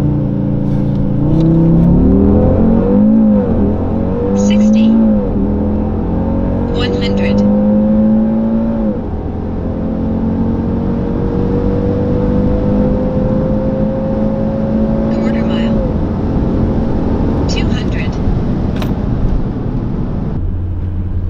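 An Audi RS3 8V with Stage 1 tune accelerates hard through a 0-200 km/h run, its five-cylinder engine roaring loud and close through rising revs with several gear shifts.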